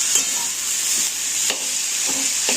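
A spoon scrapes and stirs crumbled paneer bhurji with tomato in a kadhai, a light sizzle running underneath, with several soft knocks against the pan over a couple of seconds and no talking.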